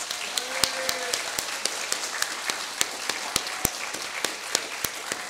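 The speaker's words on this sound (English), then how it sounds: "Let's give everybody involved today a really huge round of applause" A crowd applauds steadily at a book prize event, a dense patter of clapping with a few sharper individual claps standing out.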